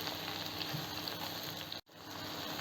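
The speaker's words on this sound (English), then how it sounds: "Now we will just flip all these tomatoes." Tomato slices sizzling in a pan on a low flame, a steady, even hiss that breaks off in a brief gap as the slices are flipped, then fades back in, with no talking.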